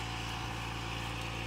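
A diesel engine driving a deep well pump for crop irrigation drones loudly and steadily at close range, a constant, even mechanical hum with no pauses.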